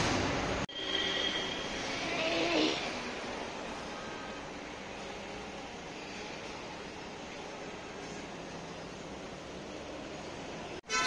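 A metro train runs with a steady, loud, broadband rumble and rush heard from inside the carriage for most of the stretch. A brief whine rises near the start, and the sound cuts off sharply at both ends.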